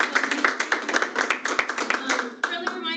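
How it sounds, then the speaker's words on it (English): Small audience clapping at a business seminar on estate planning, close, distinct individual claps in an irregular patter, with a voice speaking over the end. "we could just give a round of applause."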